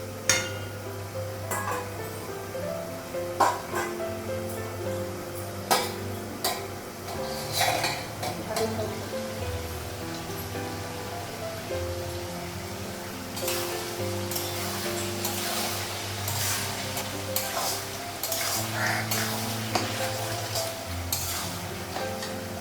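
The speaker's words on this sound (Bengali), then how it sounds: "ডিম তরকারি বসিয়ে দিয়েছি" Egg curry bubbles in a pan while a metal spoon stirs and scrapes it, giving repeated clinks and knocks over a soft steady sizzle, close by, with no talk.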